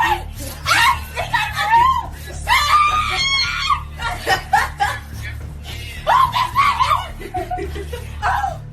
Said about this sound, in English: Laughter quickly turned to screams of fear as the woman fought desperately to free herself from the animal's grasp.